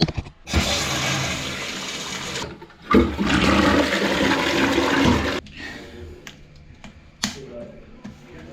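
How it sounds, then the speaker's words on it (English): A newly fitted toilet in a new wet room flushes loudly in a rushing surge, pauses briefly, then flushes again before the water settles into quieter trickling and refilling, with a few small clicks near the end. "What we'll do is we'll give it a flush, make sure we've got no leaks"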